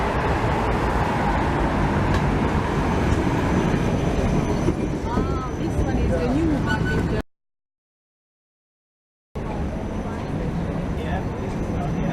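Steady rumble and rolling hum of a Vienna tram ride, with a few faint squeals and a voice talking partway, cut by a sudden two-second dropout before the noise resumes.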